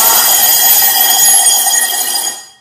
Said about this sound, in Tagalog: Medyo may konting ingay din yung buzzer.